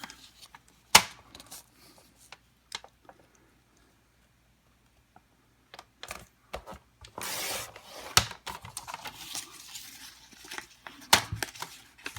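Paper inserts being cut by hand: scattered sharp snips and rustles, then a dense stretch of crinkling and sliding paper followed by more irregular cuts and taps, close and alone without talking.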